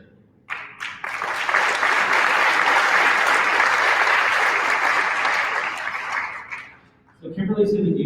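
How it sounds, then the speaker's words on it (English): An audience at a Rotary event bursts into applause, a dense burst of clapping that swells, holds for about six seconds and fades, followed by a voice speaking. "deserving of a round of applause"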